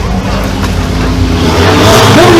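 An Alpine RGT rally car arriving at a rally stage, its engine loud and close with a steady, rising roar that swells toward the end. No voices are heard.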